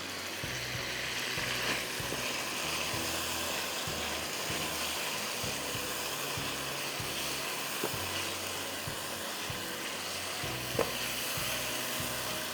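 Onions, tomatoes, green chillies and vegetables sizzling in a pan, a continuous crackling fry with repeated scraping stirs of a spoon throughout.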